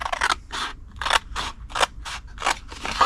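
Scissors snip through cardstock along a score line, about eight crisp, close cuts in a fairly even rhythm with no talking.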